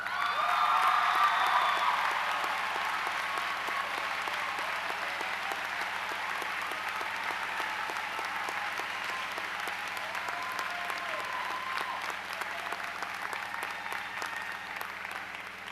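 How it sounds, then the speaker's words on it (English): Sustained applause from a high school graduation crowd honoring standing parents, a long, steady wash of many clapping hands that peaks early and slowly thins. "Students, let's give them a round of applause."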